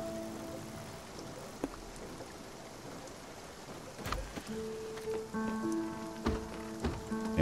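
Steady rain falls in the video game Spiritfarer, a soft continuous patter with scattered heavier drops, joined by light game chimes and occasional thuds, with no talking.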